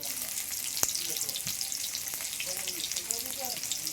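Onions fry in a pan with salt and turmeric, giving a steady close crackling sizzle with faint clinks of stirring scattered throughout.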